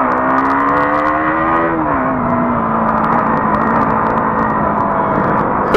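A KTM Duke 125 motorcycle on a test ride hums along at steady revs, its engine note easing down briefly before holding level, loud and close with wind noise and no talk.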